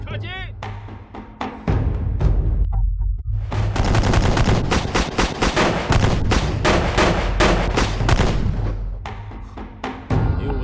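Rapid bursts of gunfire from an AI-controlled shooting program crackle loudly and continuously after an initial short volley and a brief pause, with a low rumble beneath.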